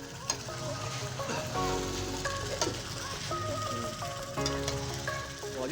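Chicken sizzling in a pan at a picnic cook-out, a soft steady frying hiss with occasional stirring knocks, while tonal background sounds like music or voices hum along underneath.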